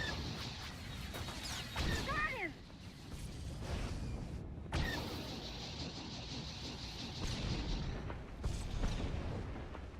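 Heavy rumbling blasts and whooshing launches from a proton torpedo firing in Star Wars: The Old Republic, a dense, continuous roar of space-combat explosions with sharp surges near the start and middle.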